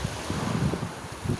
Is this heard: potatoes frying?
no